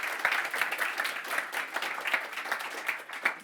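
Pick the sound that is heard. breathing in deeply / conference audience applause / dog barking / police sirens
conference audience applause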